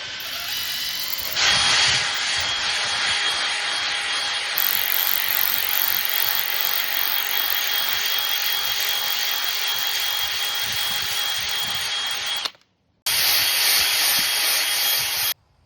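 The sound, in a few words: ball hone cleaning rust from engine cylinders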